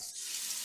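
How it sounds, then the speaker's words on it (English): Steady, bright hiss of garlic and onion frying in hot oil in a frying pan, close and continuous, with a faint stirring texture and no voices. "Here in our frying pan, a little bit of oil"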